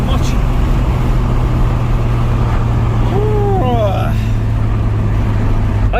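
A Honda Prelude 2.2 VTEC runs while driving, a loud steady engine drone with road and wind noise and a brief rising tone partway through, all close inside the cabin.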